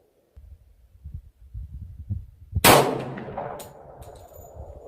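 A Glock 20 Gen 4 10mm pistol with a 4.6-inch barrel fires a single loud, sharp shot, preceded by low thumping handling noises and followed by a brief ringing decay.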